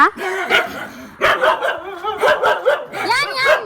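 A dog barks repeatedly in short, loud bursts close by, mixed with yips and whimpers, while people talk in a family home during a birthday gathering.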